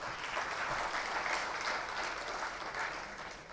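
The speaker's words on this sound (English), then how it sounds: "So a big round of applause for them." Audience applause in an auditorium at an annual day ceremony, with steady, sustained clapping from many people that holds moderately loud for a few seconds before easing slightly.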